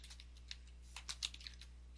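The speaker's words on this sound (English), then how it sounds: "But I could type in here how to configure" Computer keyboard typing at low level: a few quiet, scattered key clicks with a small cluster of sharper taps partway through, close to the mic with no talking.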